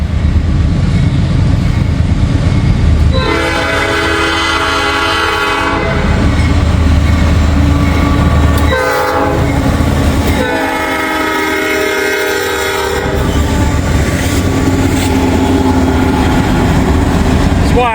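Mixed manifest freight train rolling past at close range, loud rumble and wheel clatter with long horn blasts sounding repeatedly over the passing cars.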